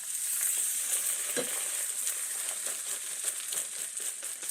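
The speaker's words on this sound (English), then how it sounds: "Now we're going to flip the egg over." An egg sizzling in a pan with bacon, a steady bright hiss with scattered crackles and a soft scrape or thump as it is turned, close and fairly quiet.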